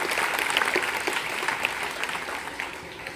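An assembled crowd at an intermediate college prize announcement claps steadily, a moderately distant, even wash of applause with no talk over it.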